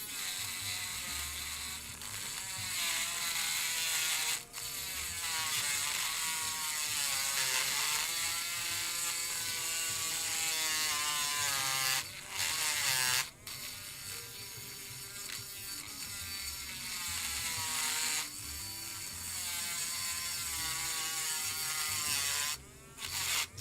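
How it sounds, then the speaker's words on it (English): A Dremel rotary tool with a milling bit grinds a line down the center of a model frame, a loud continuous high whine that shifts in pitch with load, briefly cutting out a few times. "I am using my Dremel with the milling bit to mill a line down the center here of the frame"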